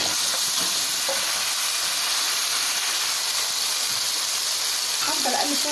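Large onion frying in oil in a pan, a steady broadband sizzle with occasional stirring scrapes, close and loud throughout, no talk.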